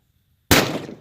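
A 6.5 Creedmoor rifle firing a 140gr ELD round during a 500-yard zeroing session: silence, then one loud, sudden blast with a booming tail that fades over half a second, close to the shooter.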